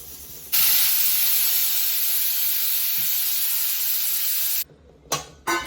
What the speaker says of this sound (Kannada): ಕುಕ್ಕರ್ ಮುಚ್ಚಿ 2 ವಿಸಿಲ್ ಬರುವವರೆಗೂ ಬೇಯಿಸೋಣ